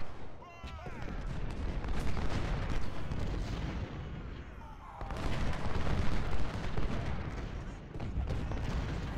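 Civil War artillery batteries and musketry in Ultimate General: Civil War boom and crackle continuously, dense overlapping cannon blasts and gunfire rolling in two heavy waves, with someone talking over the battle.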